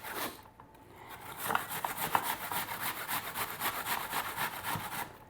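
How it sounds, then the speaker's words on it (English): Apples are grated by hand on the larger side of a grater, a steady rhythmic rasping scrape with quick, even strokes, close but fairly quiet, with no talking. "So we're going to take this grater and I'm going to grate 3 apples."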